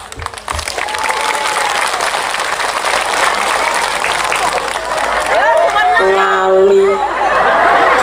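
A crowd at an Islamic religious gathering in Sumursongo, Karas, Magetan claps in a sustained burst, with laughter and chatter mixed in and a voice talking over the end.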